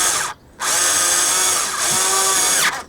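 Cordless power drill driving screws on a Fiat Doblo door panel, loud close whine in two sustained bursts separated by a short pause, with a brief stop at the end.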